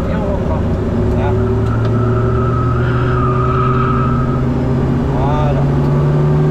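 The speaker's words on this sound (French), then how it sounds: "On la place et on reprend l'accélérateur progressivement." Race car accelerating out of a corner on the Nogaro circuit, a steady loud engine drone rising gradually in pitch, heard from onboard with someone talking over it throughout.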